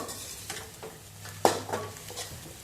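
Chopped vegetables for restaurant-style chicken rice stirred and fried in a pan: a low sizzle with intermittent spoon scrapes and one sharp metallic clink near the middle, close and without voices.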